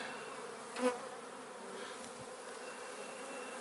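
Honey bees buzzing during a hive transfer made to raise a new queen, a soft steady hum with one brief louder buzz passing close by, otherwise faint and continuous.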